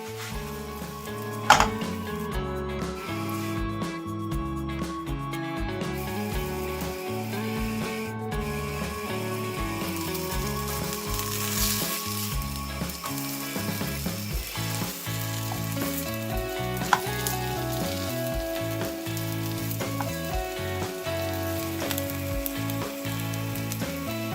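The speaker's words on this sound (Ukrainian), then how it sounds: "Викладаю зрази і обсмажую з обох боків до золотистого кольору." Steady, dense sizzling of potato and mushroom patties frying in butter in a hot pan, continuous and close, with an occasional soft clink near the start.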